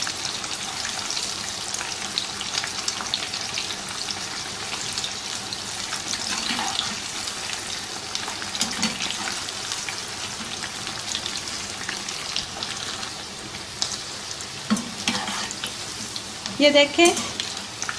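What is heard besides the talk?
chicken tempura deep frying over medium heat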